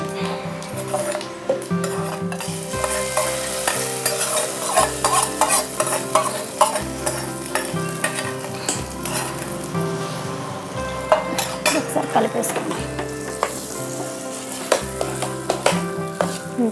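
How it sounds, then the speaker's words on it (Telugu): Loud, steady sizzling as hot oil tempering is poured into sambar rice, with frequent clinks and scrapes of a spoon stirring in a pan. "స్టవ్ బంద్ చేస్తాను ఇప్పుడు ఈ పోపు ఇందులో వేసేసుకుందాం"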